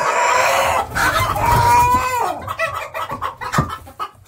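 A loud rooster crow rings out close up, followed by a run of quick clucks and scratchy hen noises.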